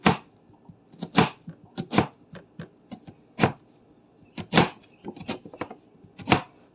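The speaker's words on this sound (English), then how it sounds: "I'm going to start by cutting my onion into a small mince." An onion is being minced with a knife on a cutting board, sharp irregular chops landing in quick clusters and pauses, close and clear with no talking.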